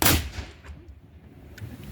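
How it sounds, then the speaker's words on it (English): A single loud cannon blast booms at the start at Fort Mackinac, then a long rumbling echo rolls away and fades. "That's cannon firing"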